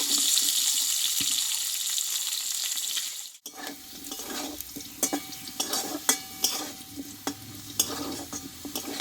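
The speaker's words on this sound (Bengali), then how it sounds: "আলু গাজরটাও আমি দুই থেকে তিন মিনিট মতো খুব অল্প আছে ভালোভাবে কষিয়ে নেব" Potato and carrot pieces sauté in oil. A broad, steady hiss gives way after a brief break to a softer sizzle with irregular spatula scrapes and knocks against the pan, close up, with no talking.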